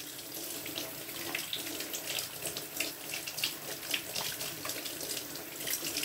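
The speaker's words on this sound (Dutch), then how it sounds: "Nu ga ik ze even goed afspoelen." Tap water runs steadily into a sink while soapy hands are rinsed under the flow, a continuous splashing stream with no talk.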